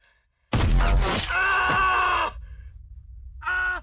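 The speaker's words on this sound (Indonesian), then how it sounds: "memutuskan untuk menembak kaca depan dengan menggunakan pistol miliknya" A sharp pistol shot cracks close by as it is fired at a car windshield, followed at once by a man's pained cry, which trails off and then returns briefly.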